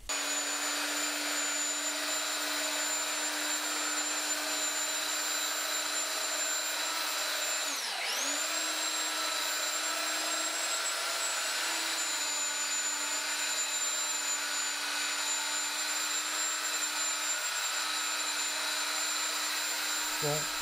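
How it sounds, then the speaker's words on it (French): A large, powerful belt sander runs continuously on wood, a loud steady motor whine that dips briefly as the load increases partway through, then holds constant until it cuts off at the end. "j'ai fait la première partie avec le tank, la grosse ponceuse à bande"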